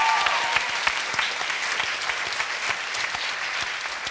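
Audience applause at a talk on disability and intersectional feminism: a dense, even wash of many hands clapping that holds steady throughout, filling the room without talk on top.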